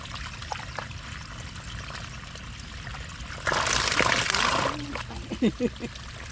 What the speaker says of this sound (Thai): ตรงนี้สูงค่ะน ี่น้ำไหลเนี่ยมันน้ำตกนี่